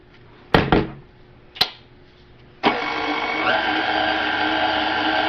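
An electric mixer starts up partway through, a steady loud whir mixing cookie dough with eggs, vanilla, salt and baking powder, preceded by two sharp knocks of eggs being cracked.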